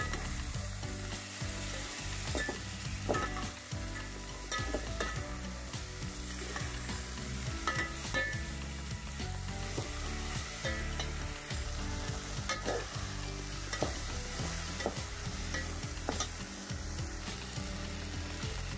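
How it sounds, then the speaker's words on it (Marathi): Mixed vegetables sauté in ghee with salt, a constant crackling sizzle under frequent rhythmic stirring scrapes from a spoon in the pan, close and steady with no voices. "तर अशा प्रकारे छान मस्त परतून घ्यायचं आहे तुपामध्ये।"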